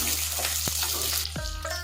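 Onions, chili, curry leaves and garlic sizzle in hot oil after mustard seeds pop, cooking for a Tamil mochakottai kulambu; a steady close crackle with a couple of sharp stirring knocks against the pan.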